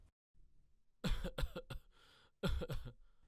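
A man coughs close up in two harsh fits of several rapid, rough coughs each, separated by a short pause, with quiet room tone between.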